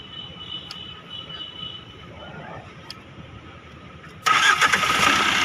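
A 2020 Tata Nexon with a dead battery starts after a jump start: quiet background murmur, then the engine abruptly catches and roars into a loud, steady run near the end.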